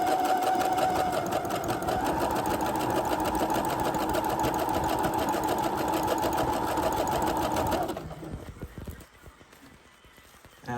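A sewing machine stitches tulle ribbon onto a sock in a steady, fast mechanical hum lasting about eight seconds, then stops, leaving quiet handling noises.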